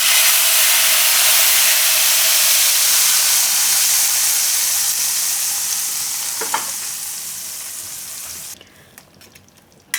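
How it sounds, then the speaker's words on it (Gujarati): Hot oil tempering with chillies, lemon and asafoetida poured over a pot of potato and pea kadhi, giving a loud, steady sizzle and hiss that slowly fades, then cuts off near the end. "આ વઘાર આપણે કઢી ઉપર નાખી દઈશું"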